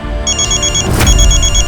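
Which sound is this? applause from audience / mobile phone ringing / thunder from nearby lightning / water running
mobile phone ringing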